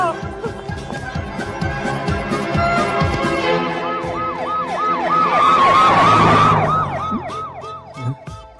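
A police siren wails in repeated rising and falling sweeps, growing louder as it approaches amid street noise, with faint voices in the background.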